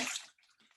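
Tap water pouring over the cups of a toy water wheel in a sink, a brief close splashing rush that quickly fades into faint trickles.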